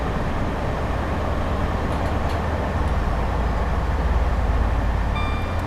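A high-speed train driven in the Train Simulator video game, a steady loud low rumble of wheels and motors running continuously, with faint tonal chimes near the end.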